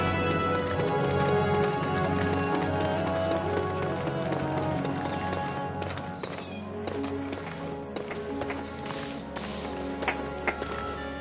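Horse galloping in the video game Dynasty Warriors 9: steady, rapid clip-clop hoofbeats running for the whole stretch under a dense bed of game music and battle noise, with no talk.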